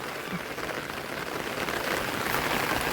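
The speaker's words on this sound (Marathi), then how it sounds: "बघू शकता तुम्ही पाऊस जोरात पडतोय" Heavy rain pouring down during a monsoon downpour in a rural Maharashtra farmyard where a racing bullock is kept, a steady dense hiss that holds loud and even throughout with no talk.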